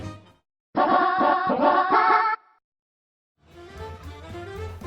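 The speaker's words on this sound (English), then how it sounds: "The correct answer was Super Mario 64, based on the Nintendo 64 game console" Super Mario 64 game sounds from the Nintendo 64 play in two bursts of bright, layered electronic tones, separated by a second of silence, close and moderately loud.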